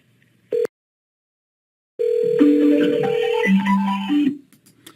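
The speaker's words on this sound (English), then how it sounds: "what you just experienced there was the phone call ringing to, on the other end" A telephone ringing on the other end of a transferred call at a Ford dealership, a short beep followed after a pause by a loud, continuous ringback melody of shifting tones.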